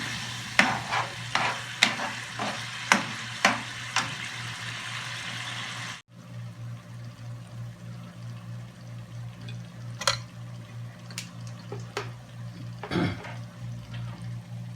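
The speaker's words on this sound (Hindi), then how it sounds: "अब गोश्त को अच्छी तरह भून लेंगे।" Meat for bhindi gosht frying in a pot, a steady sizzle under repeated scraping strokes of a spoon stirring it, close and clear, the stirring rhythmic at first and then looser, with no talking.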